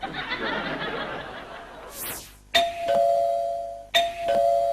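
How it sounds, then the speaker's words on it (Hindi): A ding-dong doorbell rings twice, loud and close, and each chime rings out and fades. Laughter comes just before the first ring. "घंटी बजते हुए बहुत देर हो रही है"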